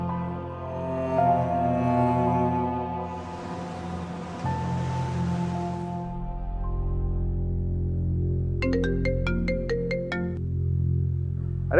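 A mobile phone ringtone rings in a Pakistani TV drama scene, a melodic electronic tune playing steadily and prominently, followed by a bright chiming phrase near the end, with no talking.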